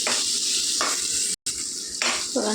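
Carrot and tomato fry in a pan for rava upma, giving a steady close sizzle broken by short stirring scrapes and a brief gap, with a voice speaking softly over it.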